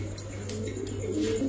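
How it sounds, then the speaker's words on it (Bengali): Pigeons kept in breeding cages at a pigeon seller's loft give low, soft coos over a steady background hum. "অনেক সুন্দর কবুতর গুলা মাশাআল্লাহ"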